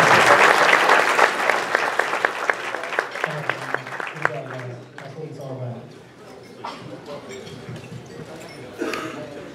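Round of applause at a spring business lunch meeting as two award recipients are honored, loud clapping that gradually thins to scattered claps, with voices talking over the tail.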